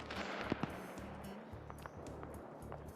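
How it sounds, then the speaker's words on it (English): Distant gunfire in a military video game set in a Congo campaign bridgehead operation, a couple of sharp muffled reports early on and fainter pops later over a low rumbling ambience. "Yeah, gunshots, so I am going to now push that position."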